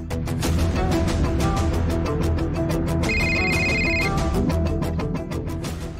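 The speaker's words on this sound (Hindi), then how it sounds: "दिलीप का फोन आ गया" A telephone rings loudly and continuously with a busy electronic trill, layered over dense background music throughout.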